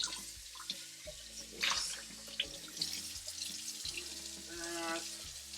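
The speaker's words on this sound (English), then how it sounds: "Wash off the palms for any buildup." Water from a tap washes buildup off palm leaves in a greenhouse, a soft running splash with a few louder bursts, heard under a steady electronic hum.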